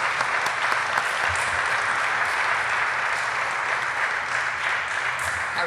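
Audience applause for Joaquín, a specialist at an Argentine audio engineering society's year-end gathering, with steady dense clapping that holds evenly throughout at a moderate level, unbroken by speech.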